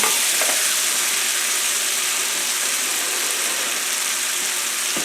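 Sausage sizzling and crackling steadily in a hot pan as it is deglazed, a dense continuous hiss with scattered pops, close and fairly loud with no talk.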